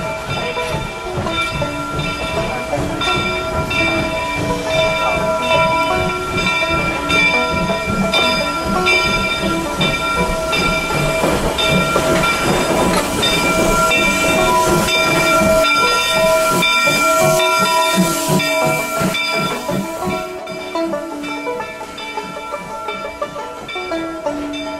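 Steam train on the Mt. Rainier Scenic Railroad rolling through the foothills, with steady hissing steam, chuffing and a sustained whistle tone, loud and continuous throughout.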